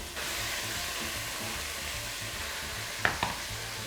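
Tomatoes and tomato paste frying in oil for a homemade Neapolitan-style pizza sauce, a steady close sizzle with soft stirring, broken near the end by two sharp utensil knocks against the pan.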